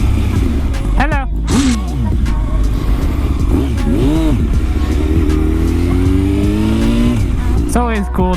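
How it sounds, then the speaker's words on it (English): A 1000cc motorcycle engine revving repeatedly, with sharp rising and falling throttle blips over a steady rumbling idle, loud and close, with a person talking in places. "They want to hear the thing rev, why not?"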